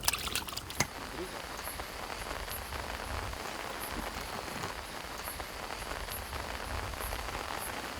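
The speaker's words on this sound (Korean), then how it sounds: "시간당 한 50mm 정도 되는 비가 잠시나마 내렸는데" Heavy rain pouring down outdoors at a fishing spot in a brief downpour, a dense, steady roar of drops hitting surfaces that fills the whole clip, with a few louder splashes early on.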